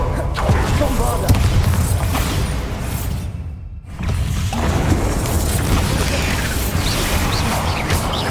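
Explosive Bombarda spell blast in the video game Hogwarts Legacy, a heavy booming rumble and crash amid dense continuous game noise, with a brief sharp dropout before the din resumes.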